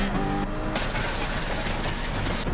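Race car engine held at maximum revs on a high-speed ring in a racing game, a steady loud buzzing drone that runs continuously under a brief harmonic whine at the start.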